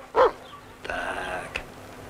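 A single sharp dog bark sounds close by, followed by a quieter whining, drawn-out tone and a soft thump.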